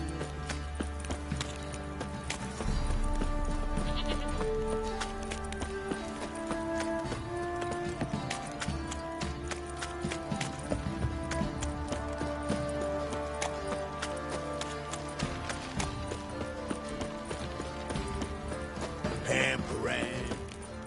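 Steady clip-clop of horse hooves at a walking pace in the video game The Witcher 3: Wild Hunt, close by, with a bed of game music and ambient noise underneath.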